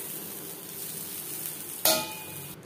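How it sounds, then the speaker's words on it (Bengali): Shrimp fry in oil in a pan with a soft, steady sizzle, broken near the end by one brief, sharp clatter of metal. "চিংড়ি মাছ যদি খুব বেশি কড়া করে ভাজা হয় শক্ত হয়ে যাবে।"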